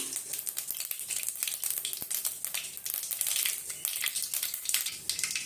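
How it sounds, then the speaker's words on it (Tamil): Mustard seeds spluttering in hot oil with urad dal, a dense, continuous crackle of tiny pops with occasional sharper snaps, close up and with no one talking. "இப்போ கடுகு நல்லா பொரிஞ்சிச்சு"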